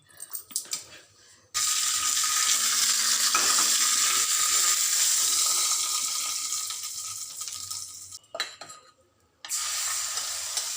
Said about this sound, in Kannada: ಈಗ ಒಂದು ಒಗ್ಗರಣೆ ಕೊಟ್ಬಿಟ್ರೆ ತಂಬುಳಿ ರೆಡಿ